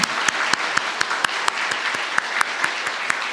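Congregational applause at a church graduation and promotion service, a dense steady wash of many hands clapping with sharp individual claps standing out, close and continuous throughout.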